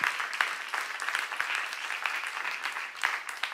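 Audience applause fills a church seminar hall, a steady patter of many hands clapping at moderate distance with no talk over it.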